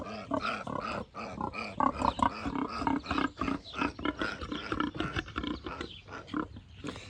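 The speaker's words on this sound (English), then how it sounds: "Little first time gilt right there." A young female pig, a first-time gilt on a farm, grunts and squeals close by in a busy, repeated series of rough calls over several seconds.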